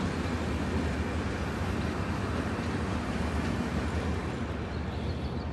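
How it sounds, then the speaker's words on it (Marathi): Train running along the Panvel–Karjat railway line, a steady, moderately distant low rumble with wheel and track noise sustained throughout, with no talking. "ट्रेन चाललेली आहे."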